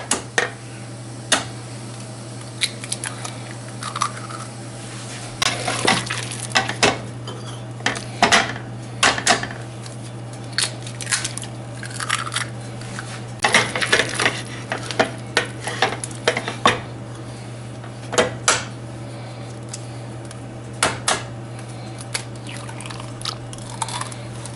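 Eggs being beaten into cheese puff dough in a pot, a spoon knocking and scraping against the pot in quick irregular bursts over a steady low hum, with no talking.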